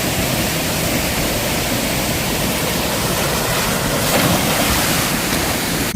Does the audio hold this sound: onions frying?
no